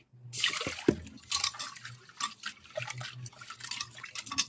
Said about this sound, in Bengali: ডালটাকে আমি ভালো করে ধুয়ে নেবো।